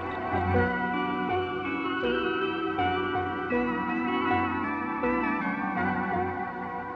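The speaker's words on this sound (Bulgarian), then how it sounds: "Изведнъж фанфари някакви." A rich fanfare of layered brass-like tones plays continuously in a Bulgarian audio drama, with sustained chords shifting every second or so, loud and full, with no voices over it.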